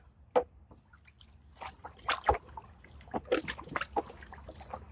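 A stir stick works through a bath of navy blue fabric dye, giving soft, close liquid sloshes, drips and trickles in an irregular rhythm with no one talking.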